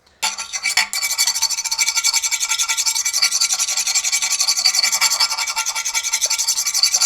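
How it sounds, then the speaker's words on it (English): A 65 HRC file rasps steadily along the edge of an 80CRV2 steel knife, loud and close, in rapid even strokes that continue for several seconds with no speech. "Once we get to that point, then we can use our 65 HRC file."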